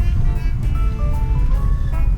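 A car travelling the road toward Caprera on La Maddalena, Sardinia, gives a low, steady rumble of engine and tyres from inside the cabin, with melodic tones playing over it.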